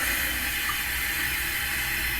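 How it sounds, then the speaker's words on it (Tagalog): Water pours steadily into the tank of a foldable portable garment steamer, a soft continuous hiss and trickle heard close up with no talking. "Tapos, lagyan nyo siya ng tubig."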